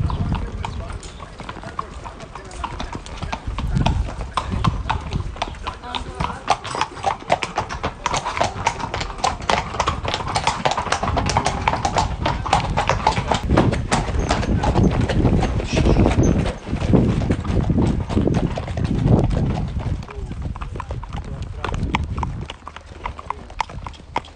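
Horses setting out on an evening trail ride in Abruzzo, hooves clip-clopping in a steady uneven walking rhythm close by, with occasional whinnies and a murmur of people in the background.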